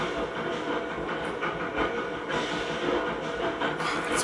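A miniature replica train runs in a South Australian town, its steady rolling rumble and faint rhythmic clatter carrying at moderate distance, with light bursts of hiss and no speech.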